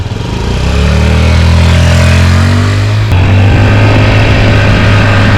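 A Honda Scoopy Metropolitan scooter, freshly serviced and on its first ride in years, runs loud and close, its small engine buzzing and revving with a steady pitch that rises and shifts partway through.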